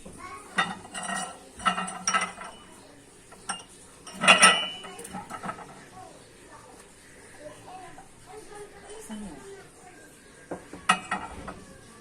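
Glasses and spoons clink as they are arranged in a china cabinet: intermittent light chinks and one louder clatter, with faint creaks between, while someone talks.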